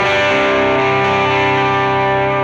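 Electric guitar riff played through a Bullhead EL34 amp with a Boing reverb pedal, loud and thick with sustained distorted chords ringing steadily throughout, no talking.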